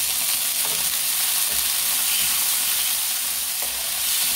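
Garlic and onion frying in a pan for adobong sitaw, producing a loud, continuous close sizzle with a couple of faint stirring scrapes, no talking.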